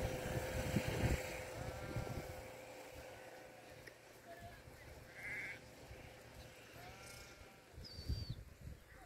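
A grazing flock of sheep on dry land bleats repeatedly, several wavering calls from near and farther off over a low outdoor rumble, with a faint voice in the background.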